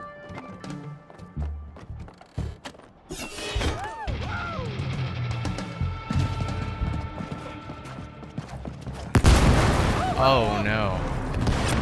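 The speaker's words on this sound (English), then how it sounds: "Everything is exploding!" Explosions in It Takes Two: scattered thumps and bangs at first, building to a denser stretch of crashes, then a loud burst near the end, with voices talking and exclaiming over it.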